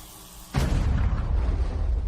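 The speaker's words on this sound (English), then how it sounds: "The explosion was enormous and instantaneous" A huge, sudden blast bursts in after a quiet half-second lead-in, then lingers as a loud, rumbling roar that fills the rest of the moment with no voices.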